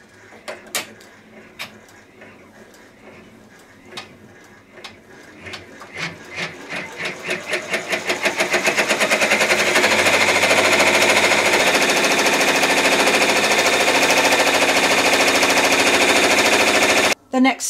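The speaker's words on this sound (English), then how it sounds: "You're going to stitch directly onto the batting." An embroidery machine stitches directly onto quilt batting held in a hoop. Its needle taps start slow and separate, speed up into a rapid mechanical chatter, and hold a steady, loud, continuous whir until a sudden stop near the end.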